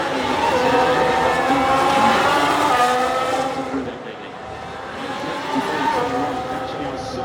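A Formula 1 race car braking hard into the turn 17 hairpin at Miami, a loud engine whine with falling harmonic tones as it slows, then a quieter, more distant drone, with commentary talking over it.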